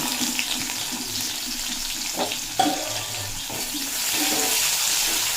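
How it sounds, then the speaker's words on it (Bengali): Chopped onion fries in oil with cumin and bay leaf, a moderate hissing sizzle with a few stirring scrapes and one sharp clack, growing brighter toward the end. "পেঁয়াজটা বেশ নরম হয়ে যাওয়া পর্যন্ত ভেজে নেব"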